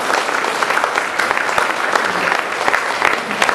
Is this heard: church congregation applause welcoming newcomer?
yes